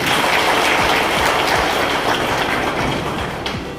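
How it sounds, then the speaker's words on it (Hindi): An audience at a Congress party welcome reception claps steadily in dense, continuous applause for a few seconds before it begins to taper. "एक ताली बजा दीजिए।"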